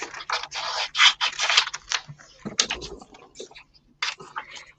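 Scissors cut through paper for a craft zine in close, rhythmic bursts of crisp snipping, several quick cuts in a row, then a pause and a few more scattered snips.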